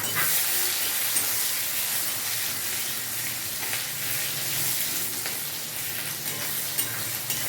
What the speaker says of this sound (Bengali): আর দিচ্ছি 2-3টে লবঙ্গ, ছোটো এলাচ আর দারচিনি। এগুলো একটুখানি ফ্রাই করে নেব।